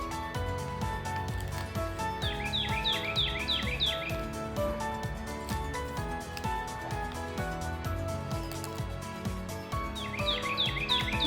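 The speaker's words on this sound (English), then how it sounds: "The birds are singing this morning." Birds chirp and sing in short repeated trilled phrases over a busy morning backdrop outdoors on a homestead, with bursts of song clustered early and again near the end.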